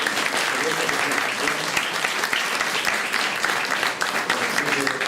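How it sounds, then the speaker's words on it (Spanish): A dense, continuous round of applause from an audience, loud and sustained throughout with no pauses. "Reiteramos el aplauso"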